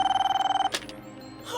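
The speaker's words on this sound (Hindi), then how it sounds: "ये राजू फोन क्यों नहीं उठा रहा है?" A telephone bell rings unanswered in a home, a rapid, steady trilling burst lasting under a second, then cut off by a short click, leaving a quiet room.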